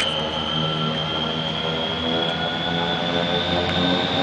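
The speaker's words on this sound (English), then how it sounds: "Here the turbine's taking, the compressor's taking a bite." A Hawker Siddeley turboprop airliner of Air North spools up for takeoff on runway 20 at Dawson City, Yukon. A loud, steady turbine whine and propeller drone fill the air without a break, with no voices.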